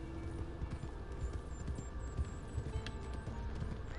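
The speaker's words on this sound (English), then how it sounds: "is that you're riding a horse." Horse hooves clip-clop in Red Dead Redemption 2 as a rider travels along, a soft, steady rhythmic patter of footfalls throughout.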